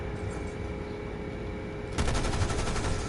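Automatic gunfire rattles in Call of Duty: Black Ops 6, a fairly faint, steady background stream of shots that grows louder and denser for the final second.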